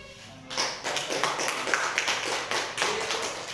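Children in a classroom clap their hands together in a burst of uneven, overlapping claps that starts after a brief pause and continues steadily at moderate loudness.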